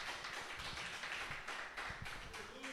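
A church congregation claps together in a dense, steady patter that holds for the whole moment, with faint voices mixed in.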